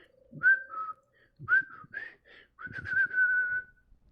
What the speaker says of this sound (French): il y a quelque chose qui me siffle dans la cave